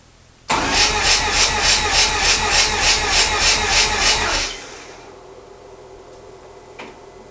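A Mazda RX-8 rotary engine cranks on the starter for about four seconds during a compression test, loud and close with an even pulsing rhythm, then stops, leaving quiet background.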